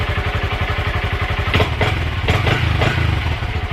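Honda Grom MSX125 motorcycle, warmed up, running steadily nearby with a rapid, even single-cylinder thump and a few brief revs blipping higher partway through; no talking.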